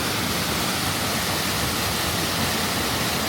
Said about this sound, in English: I went downstream a little bit further and I found this waterfall.